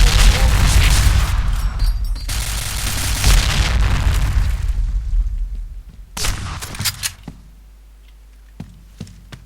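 Grenade blasts in the online shooter PointBlank set off heavy, loud booms with deep rumble that fades out. Sharper gunshot-like pops follow sparsely afterward.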